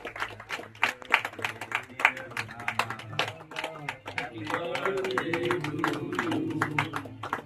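An audience at a free health check-up camp and tree-planting event claps in uneven bursts for several seconds, then the clapping fades as a voice talks over the room.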